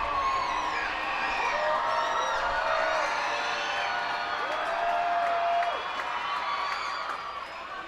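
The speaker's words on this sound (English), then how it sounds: "And the crowd roaring for Jack" Baseball crowd at a Portland Sea Dogs versus Reading Fightin Phils game roaring for batter Jack Conley, a sustained loud cheer with whoops and whistles that eases off toward the end.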